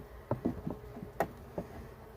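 Honeybees hum faintly around an opened hive, a soft, low drone under a few close clicks and taps from handling the frames.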